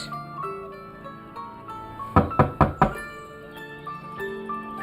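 Someone knocks on a door in a Turkish TV drama scene, four sharp, loud raps in quick succession over soft background music.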